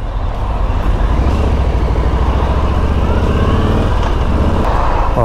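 Dense road traffic with cars, trucks and buses, plus a hiss of air brakes, rumbles close by around a Harley Davidson Softail motorcycle riding through town. It stays loud and steady throughout.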